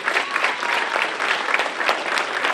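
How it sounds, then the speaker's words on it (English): An audience at a ward community address claps in a full, continuous round of applause, loud and evenly sustained from start to finish with only a faint crowd murmur beneath. "Give them a round of applause."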